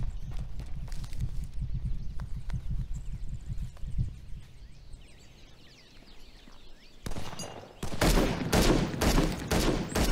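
Gunfire exchange in the Old West survival game Heat: scattered sharp shots early over hoof-like clip-clop, then after a quiet stretch a dense burst of loud, close shots near the end.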